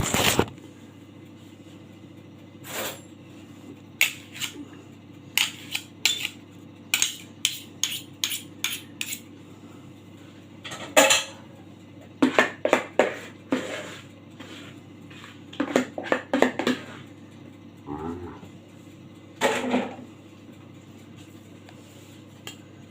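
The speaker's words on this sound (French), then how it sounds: "je lisse avec une cuillère en inox, une grosse cuillère" A large stainless steel spoon clinks and scrapes against a dish while smoothing fish brandade, a series of sharp metallic taps and short scrapes in irregular bursts, close and fairly loud over a quiet kitchen background.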